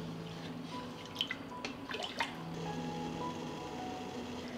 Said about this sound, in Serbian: Preliv je proključao i odmah ovako vreo sipamo u tegle.